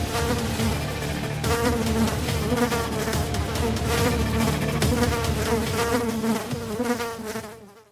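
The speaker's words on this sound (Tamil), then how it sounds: "கிருஷ்ணகிரி மாவட்டத்தில் நூற்றுக்கணக்கான வெட்டுக்கிளிகள் படையெடுப்பால் விவசாயிகள் அதிர்ச்சி அடைந்தனர்." A swarm of hundreds of locusts in farmland of Krishnagiri district, Tamil Nadu, makes a dense, continuous insect buzz that holds steady and loud, then fades at the end. No one speaks.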